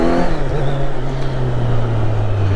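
A Kawasaki Z900 motorcycle is ridden at a steady pace, its engine giving a continuous low drone with a slight rise in pitch, loud and close throughout.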